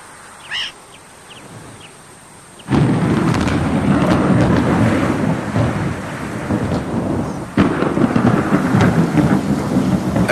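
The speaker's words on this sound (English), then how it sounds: "Only when the rain begins in earnest does Nkosi head for the shelter of the burro" Heavy rain bursts in after a quiet opening with a brief bird call, then pours steadily and loudly alone, broken by a rumbling thunder crack late on, in a meerkat burrow setting in the wild.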